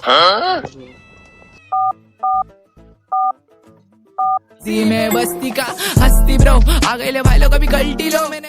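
A voice talks briefly, then four short, evenly spaced keypad beeps ring out clearly before loud overlapping voices take over.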